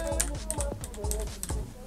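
Keys on a Ducky Shine 3 LED-backlit mechanical keyboard are pressed in a steady run of about six close, crisp clacks, with no talking.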